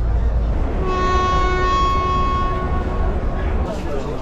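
A train at a station at night in Egypt sounds a long, steady horn tone for about two seconds over a continuous rumble of rail noise.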